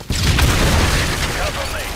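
A grenade blast in a military shooter game booms loudly at the start, followed by a rumbling tail with faint gunfire-like crackle as it fades over about two seconds.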